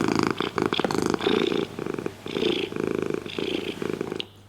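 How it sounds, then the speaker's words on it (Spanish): A domestic cat purrs up close, a loud rhythmic rattling rumble that rises and falls with each breath in steady cycles, heard alone without talk. "así es como suena un gato ronroneando."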